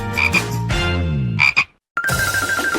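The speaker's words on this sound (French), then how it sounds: "Oh non! Pas la grenouille!" A frog croaks loudly in a game-like setting, a few harmonic, buzzy calls in a row that stop for a brief silence before a higher-pitched croak starts up, close and alone with no talk.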